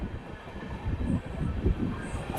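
A train rumbles past at a distance through Ranaghat station without stopping, a low rolling clatter of wheels on track with rhythmic thumps, faint and continuous throughout.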